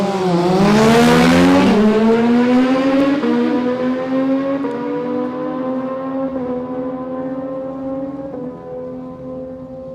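Kawasaki and Triumph drag racing motorcycles launch down the strip with a loud, high engine wail that climbs through several shifts and slowly fades as they pull away.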